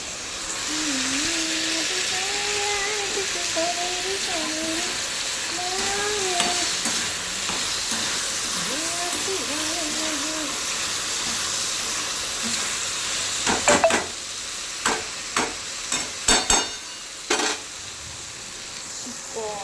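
Chicken curry boiling in a pot gives a steady bubbling, sizzling hiss throughout, with faint talk in the background and a few sharp clatters near the end.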